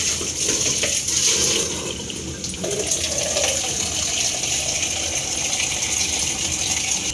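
Water pours steadily into a pressure cooker that already holds refined cooking oil, a continuous splashing rush filling the kitchen for several seconds, close and fairly loud, with no talking over it.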